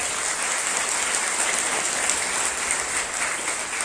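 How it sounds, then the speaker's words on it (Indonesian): An audience at a religious gathering gives a steady, dense round of applause that holds at full strength throughout, with no voices on top. "Beri tepuk tangan yang meriah."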